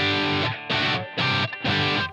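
Distorted electric guitar played through Line 6 Helix amp blocks, four loud chugging bursts of heavy overdriven tone separated by short gaps, alone with no talk.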